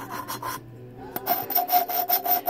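An engine valve being lapped against its seat, giving a gritty rhythmic rasping as the valve is rubbed back and forth, with a pause and then a faster run of scraping strokes up close, no talk.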